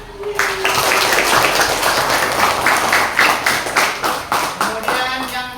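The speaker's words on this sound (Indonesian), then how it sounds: "Coba tepuk tangan." Students in an Islamic religious education class clap together in a loud, close, rhythmic pattern of repeated group claps, steady and even in tempo throughout.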